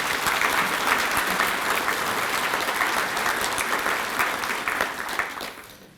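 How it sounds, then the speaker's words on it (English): A banquet audience at a county chamber of commerce event gives a round of applause, dense steady clapping from a large crowd that tapers off near the end. "So if we could please give them a round of applause."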